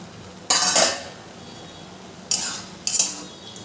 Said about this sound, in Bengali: 2 মিনিট পর ঢাকনাটা তুলে নেব।